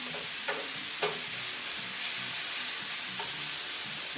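Beef frying in a pan with chili flakes, ginger, garlic, soy sauce and sesame oil, a steady close sizzle with occasional scraping stir sounds and no talk.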